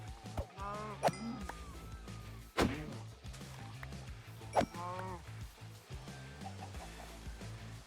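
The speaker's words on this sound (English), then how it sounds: "Look at all those chickens." Chickens clucking in Minecraft, several short bird calls scattered across the scene amid game background sounds, with a few sharp thuds and door-like bangs between them.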